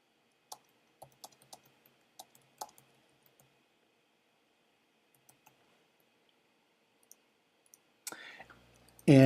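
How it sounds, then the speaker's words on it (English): Scattered soft clicks of keys being tapped on a computer keyboard, irregular and quiet, ending in a brief louder burst of noise. "do my typing"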